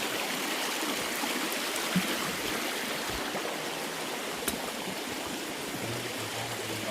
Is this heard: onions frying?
no